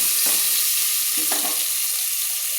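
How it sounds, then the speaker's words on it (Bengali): Potato pieces fry gently in oil inside a pressure cooker with the lid set loosely on top, giving a constant, fairly loud sizzling hiss with a couple of soft stirring knocks near the beginning. "আমি 1/2 মিনিট মতো আমি চাপা দিয়ে একটু আলুগুলোকে ভেজে নিচ্ছি"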